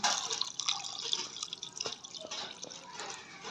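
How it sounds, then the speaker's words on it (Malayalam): Water poured into a pot of seasoned mutton with pepper powder and salt, heard as a close, continuous splashing and dripping stream throughout, with no talk over it. "അതിലേക്ക് വെള്ളം ഒഴിക്കാം"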